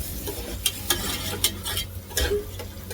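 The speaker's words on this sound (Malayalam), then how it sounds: "ചെറിയുള്ളിയെല്ലാം മൂക്കണേ, മൂക്കാലേ അതിൻ്റെ രുചി വരുള്ളൂ" Chopped shallots frying in a pan of hot oil, a steady sizzle with intermittent scraping stir strokes from a spoon, close and moderately loud, with no voices.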